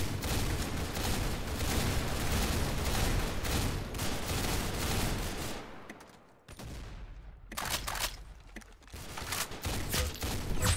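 Heavy overlapping gunfire in a Roblox Arsenal match, a loud continuous barrage that briefly drops out before bursting back in with sharp volleys, with no talk over it.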